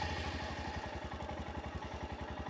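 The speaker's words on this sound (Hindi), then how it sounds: "This is a 411 cc single cylinder air cooled engine and it sounds like this." A Royal Enfield Scram 411 idles close up, its 411 cc single-cylinder air-cooled engine giving a steady, even thumping with a mechanical clatter and no voices over it.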